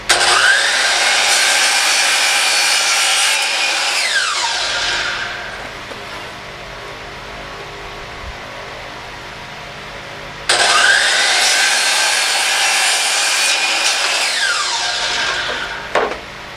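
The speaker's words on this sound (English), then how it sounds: "I have the chop saw set up." A chop saw cuts wooden boards for simple storage shelves: two loud, close cuts, each a whining motor bite through wood that then winds down, with a quieter pause between them.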